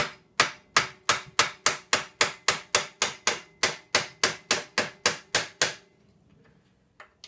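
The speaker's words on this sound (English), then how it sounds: "The back wheel nuts are pretty solid, so I'm going to just try and rubber mallet it" A rubber mallet strikes the tight rear wheel nuts of an old chopper bicycle, delivering about twenty sharp, evenly spaced blows close up before stopping, followed by a faint tap.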